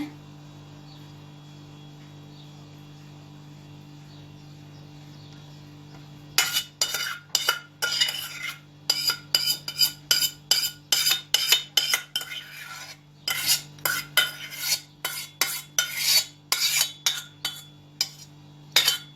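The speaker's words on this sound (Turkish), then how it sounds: "Baya bir kaşık sesi." After a quiet hum, a metal spoon scrapes and clinks rapidly against the inside of a pot of chocolate sauce, with repeated strokes close up and no talking.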